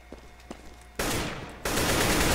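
Auto sniper rifle firing in a video game, a dense loud burst of gunfire that kicks in abruptly and continues steadily after a faint quieter stretch.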